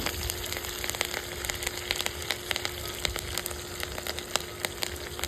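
Garlic, ginger, curry leaves and mustard seeds sautéing in a pan for a crab roast, a continuous close sizzle dotted with sharp crackles and pops, moderately quiet with no voices.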